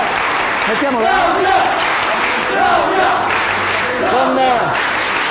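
A large crowd at a celebration honouring Claudia with Diego Maradona present claps and roars steadily throughout, with loud voices rising and falling over the dense applause.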